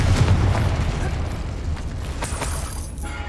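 The Confringo explosive spell cast in Hogwarts Legacy, a loud, sustained booming blast with rumbling low end and crackling debris that fades slightly over about three seconds, with no talk over it.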